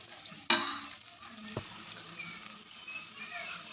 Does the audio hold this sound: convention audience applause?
no